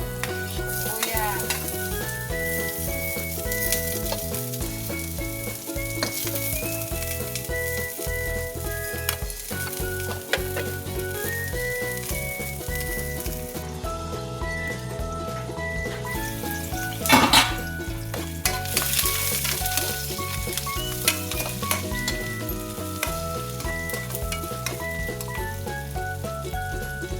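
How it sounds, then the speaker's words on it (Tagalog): Sibuyas, bawang and luya frying in a pan for chicken ginataan, continuous loud sizzling with rhythmic scraping and clanking of a spatula against the metal pan throughout, plus a sharper clatter midway. "Lagyan natin ito. Sibuyas, bawang, at luya."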